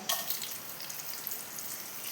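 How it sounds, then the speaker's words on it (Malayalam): Dried red chillies dropped into hot oil with popped mustard seeds give a soft, steady crackling sizzle, faint and close, with a few brighter pops near the start. "കടുക് പൊട്ടി ഞാൻ വറ്റൽ മുളക് ഇട്ട് കൊടുക്കുന്നുണ്ട്"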